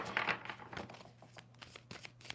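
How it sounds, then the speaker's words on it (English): A deck of tarot cards is shuffled close by, giving quick riffling and flicking bursts, strongest at the start, then lighter intermittent card slaps and rustles. "2 more shuffles."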